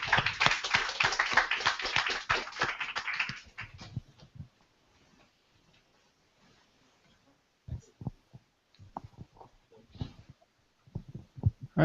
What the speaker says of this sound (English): we want to end with a final round of applause